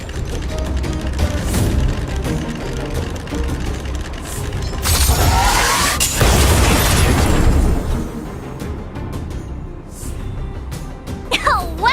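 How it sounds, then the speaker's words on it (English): An automaton stealth bomb goes off in the video game Honkai Star Rail: mechanical clicking and whirring build up, then a loud burst with a crackling, sweeping roar that fades into scattered game effects. "We wiped them all out in a single explosion!"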